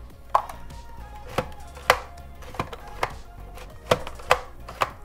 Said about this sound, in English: to slice the potato, you're gonna push down the lever here